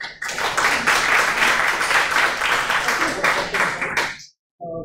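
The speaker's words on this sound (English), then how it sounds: "Round of applause" Audience at a tech meetup giving a round of applause, many hands clapping loudly and steadily for about four seconds before cutting off abruptly, followed by a short burst of sound.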